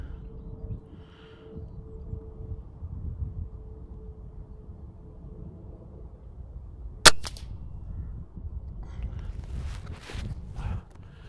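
A single sharp crack of a TX200 air rifle shot rings out once at long range, 100 yards, outdoors in wind, above a low steady rumble of breeze and faint background noise.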